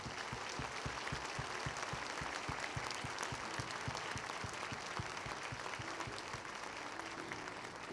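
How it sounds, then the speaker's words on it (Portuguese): A church congregation claps steadily and continuously, a dense wash of applause at even volume throughout, with no talking over it. "Você pode aplaudir o Senhor porque Ele é bom."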